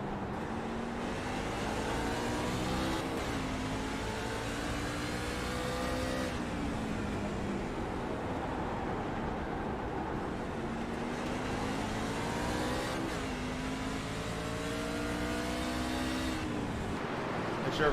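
Racing trucks in a racing video game roar continuously and loudly, their engines climbing in pitch and then dropping sharply at each gear shift, with several shifts spread through the stretch.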